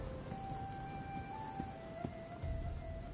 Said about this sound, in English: It's like soft rain.